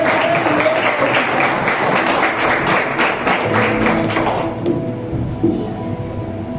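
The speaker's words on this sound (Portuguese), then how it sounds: "uma salva de palmas para o Senhor Jesus." A church congregation claps for several seconds in a loud, dense burst of applause, then fades to scattered taps and room noise.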